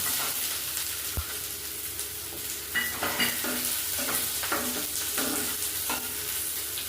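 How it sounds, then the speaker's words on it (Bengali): Chopped onion frying in oil after the spice tempering, for a radish kofta curry, a steady sizzle broken by repeated stirring scrapes and clinks, close and fairly loud. "তো ফোড়নটা হয়ে গেছে, পেঁয়াজ কুচিটা দিয়ে দিচ্ছি"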